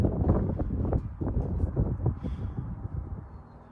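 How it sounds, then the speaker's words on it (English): Gusting wind buffets the microphone at an outdoor shooting range, giving a continuous low rumbling roar that swells and dips irregularly, with no voices. "And the wind's gusting, so I'm going to hold off."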